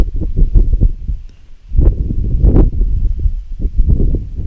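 Wind buffets a microphone in heavy low rumbling gusts, swelling and dropping over a few seconds, with no voices, at a wild camp in the Galloway Hills.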